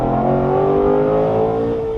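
A modified C6 Corvette Z06 V8 revs steadily and loud at close range, a sustained high engine drone with no break, redline 7,200 RPM.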